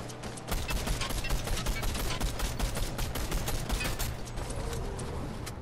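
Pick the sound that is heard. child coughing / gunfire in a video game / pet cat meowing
gunfire in a video game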